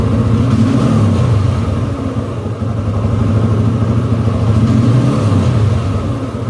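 A 2011 TVS Apache RTR 160 motorcycle engine cruising at about 3000 RPM makes a loud, steady low rumble with a fine pulsing throb, holding constant with slight swells throughout and no talk.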